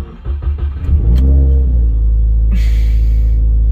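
A Subaru WRX fitted with a new solid aluminum transmission mount is cranked by the starter, fires up with a loud rev, then settles into a deep, steady idle rumble close by.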